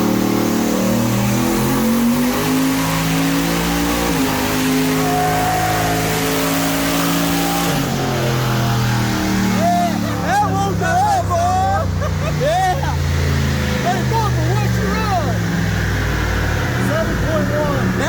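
Turbocharged Chevy 305 engine in a Canyon truck launching on CO2 boost control: loud, sustained engine roar climbing through the revs, rising sharply partway through, with a voice talking over it.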